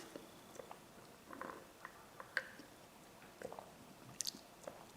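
Someone quietly chews chewy tapioca pearls from homemade bubble tea, making faint, soft squishy bites and small wet clicks at an irregular pace close to the mic.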